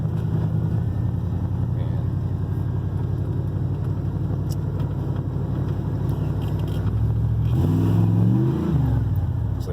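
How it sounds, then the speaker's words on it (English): A car engine fitted with a 700R4 automatic transmission revs steadily throughout, with a rising surge near the end as it climbs while the transmission fails to shift properly; someone talks over the engine noise. "See how it revs up?"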